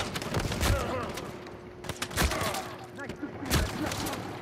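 Rapid gunfire from a multiplayer match of the video game Uncharted 4, sharp bursts of shots in quick clusters with a few heavier thuds, talk faintly mixed in.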